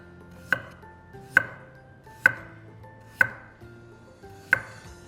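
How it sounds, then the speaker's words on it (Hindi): A knife chops through taro root (arbi) on a cutting board in five crisp, evenly spaced knocks roughly a second apart, each a sharp tap with a short ringing decay, close and alone with no talk. "जिस तरीके से आप सब्जी बनाना चाहते हैं उस तरीके से अरबी काट लीजिए"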